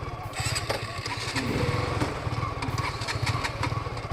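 A second-hand motorcycle engine is started and then settles into a steady, loud idle, close by, with a rapid even throb that runs throughout.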